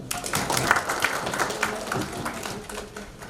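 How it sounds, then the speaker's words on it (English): Audience applause at a governance summit and awards conference in New Delhi, a steady dense wash of clapping lasting the whole few seconds at moderate loudness. "Clap for him, please."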